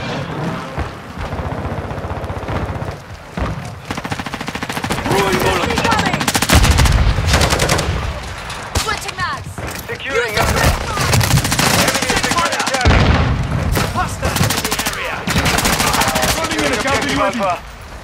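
Dense, rapid machine gun bursts and gunfire ring out almost nonstop in a Call of Duty Modern Warfare match on the Shipment map, loud and close, with in-game radio voice callouts layered over the shooting.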